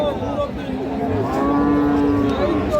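Cattle moo loudly and close by at a busy livestock market in Raniganj where Friesian and crossbred bull calves are sold. A long, drawn-out low call rises over the crowd background.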